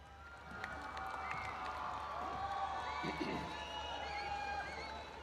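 An audience at the launching ceremony of the Naya Pakistan Sehat Programme cheers and claps to welcome Prime Minister Imran Khan: a steady, moderately distant wash of crowd noise with scattered shouts that swells and then fades.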